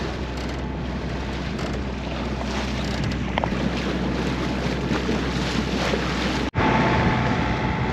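A steady, loud roar of wind rushes over a sailboat out on open water, continuous and close to the microphone, with a brief dropout near the end.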